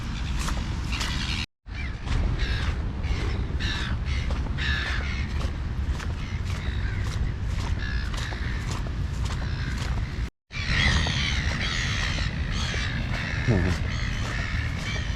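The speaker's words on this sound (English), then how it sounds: "Look at the oval's covered in seagulls." Seagulls call repeatedly in sharp, harsh cries over a steady outdoor rumble on a sports oval by Sydney's Parramatta River, the calls overlapping and continuing throughout.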